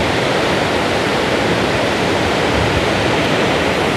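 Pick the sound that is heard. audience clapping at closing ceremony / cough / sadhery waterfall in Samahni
sadhery waterfall in Samahni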